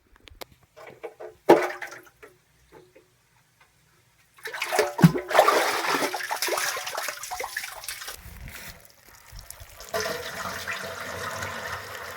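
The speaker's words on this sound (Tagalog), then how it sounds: "So, lagyan muna natin to ng tubig mga lods." Water pours and splashes into a hand-dug hole used as a small well, starting with a brief splash, then a loud sustained gushing pour that trails into a softer trickle.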